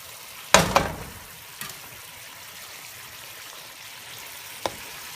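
Green onions hit a hot pan for Mongolian beef with a sharp burst of sizzle, then settle into a steady, soft frying hiss with a couple of faint clinks.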